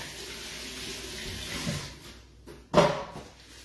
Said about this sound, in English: Right, wash my hands.